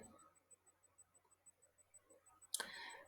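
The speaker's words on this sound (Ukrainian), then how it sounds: "клацаємо ще раз на документи." A single sharp click near the end, after a stretch of quiet faint ticking, like a computer mouse button being pressed.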